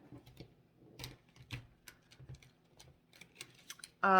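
Paper tarot cards are handled and shuffled up close, with soft irregular clicks and flicks, ending in a sudden louder burst.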